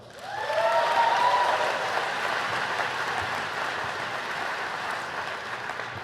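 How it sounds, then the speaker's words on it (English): Graduating MBA students and guests applaud at a university graduation ceremony, with whistles and cheers rising at the start over sustained, moderately distant clapping that carries on evenly. "So give a round of applause for yourself."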